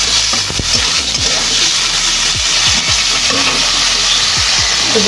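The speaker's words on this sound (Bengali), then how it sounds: "মাছটা দিয়ে সামান্য একটু নুন হলে খুব সামান্য নাড়বো, খুব বেশি নাড়বো না" Fish and boiled bottle gourd stirred in a frying pan, with a loud, steady sizzle of hot oil throughout and a few soft scrapes of the spatula, no talking.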